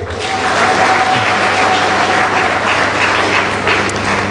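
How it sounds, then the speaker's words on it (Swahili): An audience at a Press Freedom Day ceremony in a hall gives loud, dense sustained applause, many hands clapping together throughout, with a faint murmur of voices beneath. "Makofi ya namna hiyo hayapendezi, tupige ya pamoja wote."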